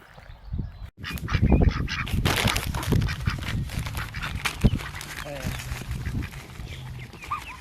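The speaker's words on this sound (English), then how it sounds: "we are feeding the ducks" Ducks being fed in Tasmania honk and quack in a noisy jumble close by, calls overlapping with splashing and people talking over them.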